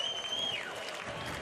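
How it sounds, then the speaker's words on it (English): Stadium crowd noise at a Red Sox versus Twins spring training game, a brief wash of cheering from the stands with a sharp whistle that slides downward. "listen to the crowd."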